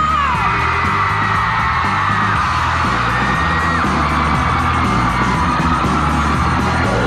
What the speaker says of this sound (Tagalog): Narinig na po natin ang sigaw ng Linares.